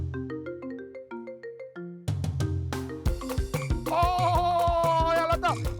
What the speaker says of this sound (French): Hey, téléphone, là.